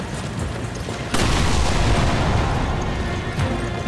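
A fuel tank blowing up in Resident Evil 5, one sudden loud boom that rolls into a sustained roar of debris and fire lasting several seconds.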